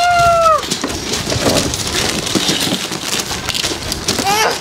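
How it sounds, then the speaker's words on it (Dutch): Steady rain patters outdoors throughout, with brief high whistling or squealing tones at the start and end and some low background noise. "Ja, het regent, hè."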